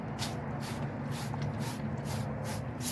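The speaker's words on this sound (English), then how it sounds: "Spray bottle works really well for this." Repeated short bursts of a spray bottle misting water onto a car headlight, about eight quick squirts in a steady rhythm, close by over a low background hum.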